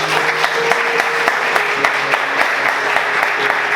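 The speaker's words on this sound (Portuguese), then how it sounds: "Você pode aplaudir Jesus bem forte." A church congregation claps steadily and fairly loudly, the applause sustained throughout with scattered sharper claps.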